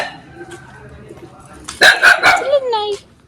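A dog gives a short burst of barks and yips near the end, loud and close, following a quieter stretch of low background noise.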